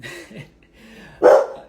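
A dog in a home kitchen lets out a single loud, close bark near the end, after a stretch of quiet, faint sounds.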